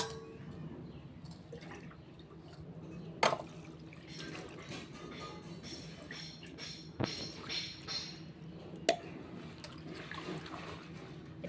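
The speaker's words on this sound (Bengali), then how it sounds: "পাতাগুলো ভালো করে ধুয়ে নিচ্ছি" Leaves of a village cooking plant being washed by hand in water, with soft continuous sloshing and dripping, plus a few sharper splashes and clunks standing out over the gentle trickle.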